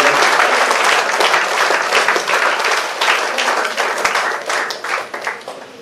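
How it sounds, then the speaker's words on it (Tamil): Students and guests at a college function applaud together, a loud continuous burst of many hands clapping that gradually thins toward the end. "அனைவரும் கைத்தட்டலுடன் பாராட்டுகிறார்கள்."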